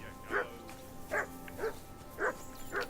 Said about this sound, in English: we'll go see what the barking dog is about